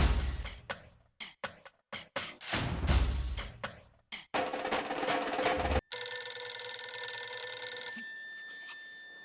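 A telephone rings in a household scene of a Hindi sitcom, with a long electronic trill coming after a run of dramatic hits and thumps.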